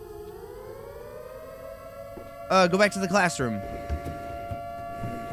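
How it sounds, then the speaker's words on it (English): A siren droning in a horror video game set at a summer camp, a steady held tone that rises slightly at the start and runs throughout, with a voice briefly speaking over it midway. "that's the siren that we heard in the beginning"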